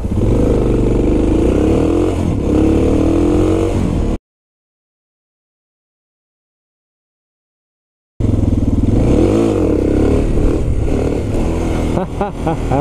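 A Suzuki DR650 dual-sport motorcycle revs hard while practising second-gear wheelies, its loud engine note rising and falling up close, cut by a few seconds of silence before the roaring revs return.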